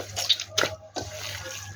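A little water trickles and drips into dough in brief splashes, close and quiet, with a few soft wet sounds between short pauses.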